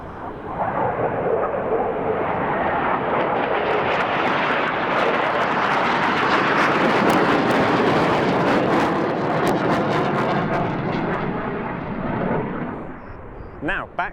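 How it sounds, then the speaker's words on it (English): Black Eagles aerobatic jets roar loudly and steadily overhead while flying the double helix manoeuvre at an air show, a broad sustained engine rush building and fading over about fourteen seconds, with an announcer talking over it. "One of them about to roll inverted, another one flying close formation with the inverted aircraft, and the remaining 2 barrel rolling around their smoke trail."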